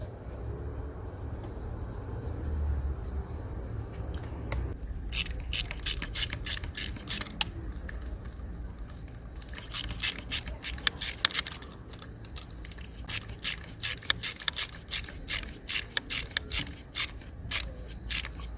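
Ratcheting clicks from tightening a jubilee hose clamp on the heater control valve hose of a BMW E36 3 Series, coming in rapid bursts of close, crisp clicks after a quieter stretch of low handling noise.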